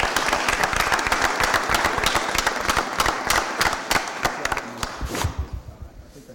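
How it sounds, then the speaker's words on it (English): Audience applause at a city Board of Aldermen meeting, dense steady clapping from a crowd that carries on for several seconds before thinning out and fading near the end. "let's give them one more round of applause for a job well done"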